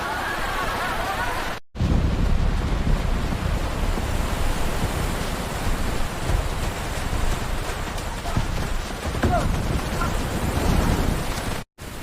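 Heavy rainstorm with rising floodwater, a dense continuous roar of pouring rain and rushing water, loud and steady throughout with two brief dropouts.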